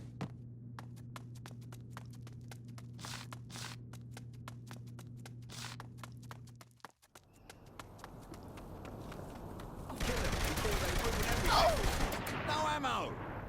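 Rapid bursts of gunfire in the video game Saints Row 3, sharp repeated shots in quick succession, then a louder stretch of heavy firing, with faint talk mixed in.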